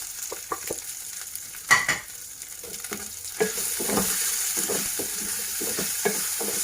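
Spices stirred and frying in a pan for Sindhi-style sabudana pulao, with a steady soft sizzle under scattered scraping stir strokes and light clinks, moderately close and without talk.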